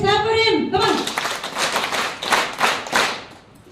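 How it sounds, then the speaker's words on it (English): Students clapping in a guided group session, a burst of uneven claps and taps that begins after a brief voice and fades toward the end, with talk mixed in. "Let's clap for him."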